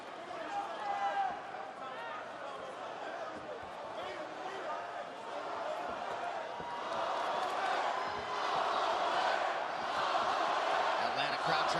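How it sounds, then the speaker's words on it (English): Arena crowd in Atlanta roaring steadily behind fighter Max Holloway in the fifth and final round of a UFC bout against Poirier, swelling louder toward the end, with commentators talking over it. "Atlanta crowd trying to get behind Max Holloway here."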